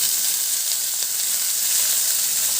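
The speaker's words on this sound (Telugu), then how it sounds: "మీడియంగా కట్ చేసుకుని బీరకాయ ముక్కలు కూడా వేయించుకోవాలి." Medium-cut ridge gourd pieces fry in hot oil in a pan, giving a steady, close, dense sizzle with no pauses.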